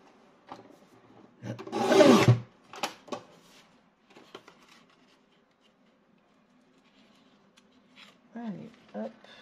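Paper for a vintage scrapbook album is cut with a trimmer, one loud rasping slide lasting about a second, followed by soft handling noises and a faint voice.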